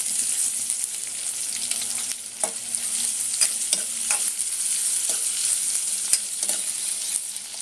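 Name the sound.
onion frying in tempering of cumin and curry leaves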